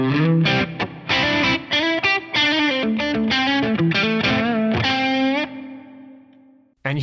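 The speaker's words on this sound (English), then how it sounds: "All I've got is amp, cab, and reverb from the FM3." An electric guitar runs through Fractal FM3 amp and cab modeling with reverb, playing a loud distorted phrase of fast notes and chords that ends on a sustained note fading into a reverb tail.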